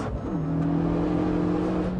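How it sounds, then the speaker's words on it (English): A car engine drops in pitch as the driver downshifts with heel-and-toe throttle blips, a loud close rev settling into a steady lower engine drone on sticky Michelin tyres. "And also the downshifts, listen to these."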